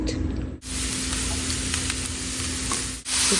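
Seasoned rice tossed with vinegar, sesame oil and sesame seeds is stir-fried in a pan for homemade gimbap, giving a steady close sizzle with stirring scrapes and two brief pauses, no talking.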